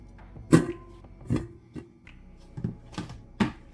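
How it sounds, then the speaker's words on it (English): Ripe bananas mashed by hand in a bowl for a banana blueberry loaf, giving several separate soft squelching thumps at an irregular pace, close and fairly quiet, with no talking. "I use this bowl to mush the bananas"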